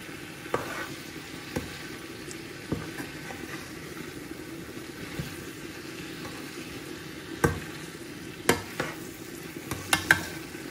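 Spices for beef curry fry in a pan with a soft, continuous sizzle. A spoon stirs now and then, scraping and clinking at irregular intervals, with several quick taps near the end.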